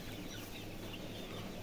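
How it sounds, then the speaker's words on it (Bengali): Chickens in a house built over a weed-covered pond cluck softly beneath a steady wash of background noise, with no talking. "পুকুরের উপরে আমার এই মুরগির ঘর"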